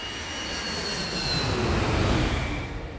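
A Boeing 757 airliner cruising at altitude gives off a steady, broad engine roar with a low rumble and faint high whine, constant and unbroken throughout, with no voices.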